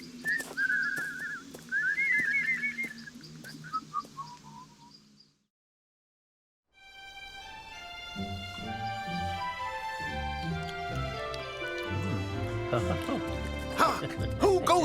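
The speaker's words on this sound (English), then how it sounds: "And whistle while we're doing it." A cartoon character whistles a melodic tune alone in a fairy-tale scene, bright wavering notes for about five seconds before a short silence and then orchestral music takes over.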